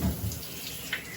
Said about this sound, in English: Squirt some water in your hands.